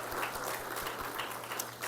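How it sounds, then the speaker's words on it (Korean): Congregational applause in a church sanctuary during a Sunday worship service, a steady wash of clapping from a crowd that holds fairly even for a couple of seconds with no voices over it. "우리 먼저 하나님께 감사와 영광의 박수를 올려드리겠습니다"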